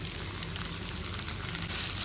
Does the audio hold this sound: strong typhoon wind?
no